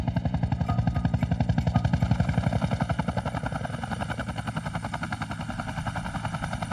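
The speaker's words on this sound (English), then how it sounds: "The chopper now needs to land somewhere safe, so Gavin can be properly assessed." A rescue helicopter flies in to land near rocks and heavy swell, its rotor thumping in a loud, fast, steady beat that slowly eases off slightly.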